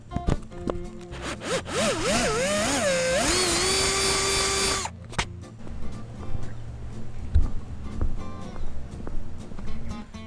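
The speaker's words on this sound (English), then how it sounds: "I don't really like drilling holes in KTM parts" A power drill bores a hole through a plastic part of a KTM 1290 Super Duke R motorcycle, a loud whining burst lasting a few seconds whose pitch wobbles and then steadies, followed by quieter handling noises.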